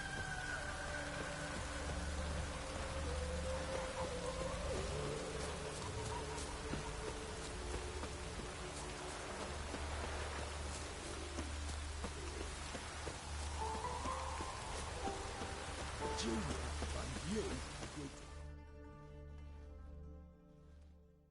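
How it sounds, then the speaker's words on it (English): Steady rain in The Witcher 3: Wild Hunt patters and hisses on surfaces, dense and continuous, with faint background tones, fading out near the end. "Lots of fuss over lots of rain."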